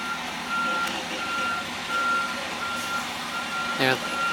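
A delivery truck backing up with a heavy roller sounds its steady, evenly spaced reversing beeps over a low engine rumble on a drizzly day, moderately distant and continuous.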